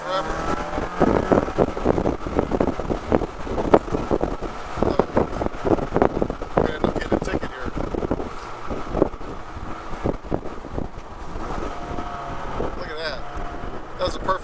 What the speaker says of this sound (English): That was a perfect rev match right there.